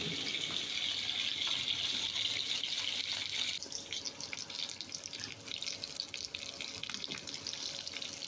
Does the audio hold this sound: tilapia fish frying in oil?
yes